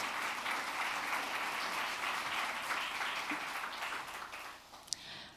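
Applause for a governor at a conference on Asian economic growth, a broad, steady clapping from a large audience heard at some distance, easing slightly toward the end.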